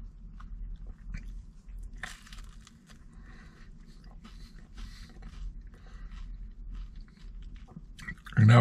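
Someone bites into and chews a crispy-bottomed Sicilian pizza from Sapore in Old Lyme, Connecticut, giving close, crunchy bites followed by soft, steady chewing.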